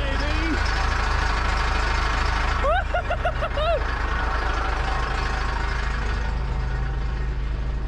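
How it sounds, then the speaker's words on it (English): A converted family bus's large diesel engine rumbles steadily at idle throughout, while a voice talks over the start and briefly sings out in the middle. "the sound of our engine"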